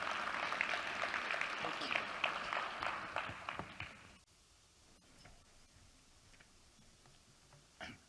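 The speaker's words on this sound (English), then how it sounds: "please won't you help me welcome with a warm round of applause Deputy Governor Rashad Cassim as he comes up" An audience at an opening address gives a warm round of applause for a deputy governor, a dense patter of clapping that fades out about halfway through, then a quiet room.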